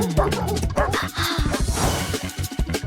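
Wolves in a children's video game yelp, bark and growl in rapid overlapping bursts, loud and close, with busy game sound underneath.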